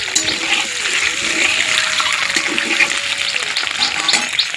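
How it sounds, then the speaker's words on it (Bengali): Eggs seasoned with salt and turmeric fry in a pan over a village clay stove, giving a loud, continuous crackling sizzle with bursts of spattering throughout and no talking. "এই যে ডিমগুলো দিয়েছি, ডিমগুলো আগে নুন হলুদ দিয়ে ভেজে নিচ্ছি।"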